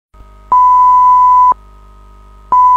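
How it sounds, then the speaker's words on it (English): Fire alarm sounding on the Tordenskjold offshore installation during a hydraulic power unit fire, a loud steady electronic tone pulsing on for about a second and off for a second, repeating. "The fire alarm goes off"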